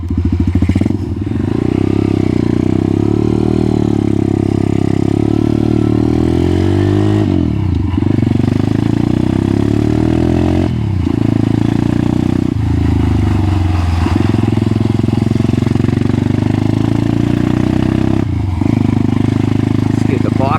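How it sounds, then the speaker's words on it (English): A Crossfire pit bike engine, a CF 140 or 125, is kick-started and runs loud and close, a steady rough idle broken by several short dips and blips of the throttle throughout. "This bike can be a little bit tricky to start. He says, doing it one kick."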